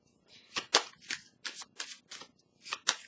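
Tarot cards being handled and shuffled before one is drawn from the deck, a quick series of soft papery riffles and slaps, close and quiet, with no talking.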